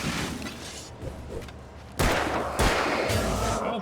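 Pistol gunfire in the video game Alan Wake Remastered, a few loud, sharp bursts near the end over a busy, dense in-game soundscape.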